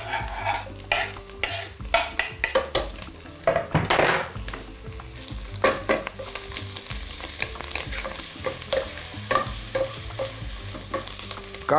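Sliced ham and mushrooms frying in a pan, with steady sizzling broken by repeated scraping and clattering strokes of a utensil stirring against the pan, close and moderately loud with no talking.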